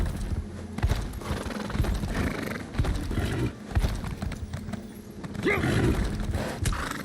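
Video game horse hooves in Elder Scrolls Online clip-clop in a steady walking rhythm, close by, with a horse whinnying once and a busy background of ambient noise.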